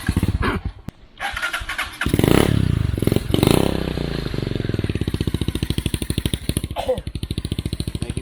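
A motorcycle in a rural farm area near San Pablo City, Laguna is started, with scraping and thumps first, then the engine catches and settles into a fast, steady putter close by; voices are heard early on.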